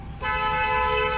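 A learner driver's car horn sounds one long, steady, loud honk, held continuously for about a second after a short quiet start.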